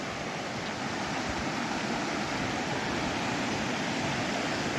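Rani Chuan waterfall in a forest in Bargarh, Odisha, pouring as a steady broadband rush of water, fairly faint and constant with no voices.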